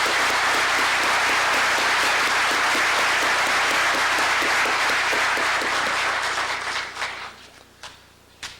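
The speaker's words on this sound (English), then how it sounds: "I'd like Eric to stand so we could honor your parents with our applause" An auditorium audience at a memorial lecture at Ball State University applauds to honor the lecture's donors, a full sustained round of clapping that thins out and dies away into a few scattered claps at the end.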